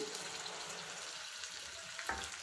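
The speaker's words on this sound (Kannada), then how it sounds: "ನೋಡಿ ಸಾಸಿವೆ ಸಿಡ್ದಿದೆ ಇದಕ್ಕೆ ಈರುಳ್ಳಿ ಸೇರಿಸ್ಕೊಳ್ತಾ ಇದ್ದೀನಿ" Onions sizzle softly in oil with spluttered mustard seeds, dried red chilies and curry leaves for a vegetable sambar, a faint, steady frying hiss with a small clatter near the end.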